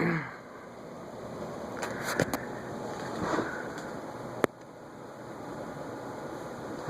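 Emerson Tristar CF5050BK00 ceiling fan with light running at high speed on a four-speed control, giving a steady, faint broadband whoosh of moving air, with a few brief clicks and one sharp tick partway through.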